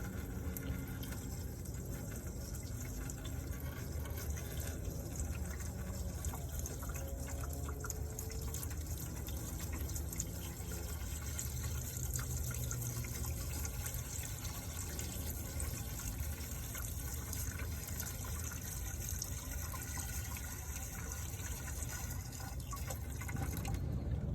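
Windshield washer fluid is poured steadily into the reservoir of a Dodge Caravan, a continuous soft rushing splash that holds for over twenty seconds without a break, faint and alone.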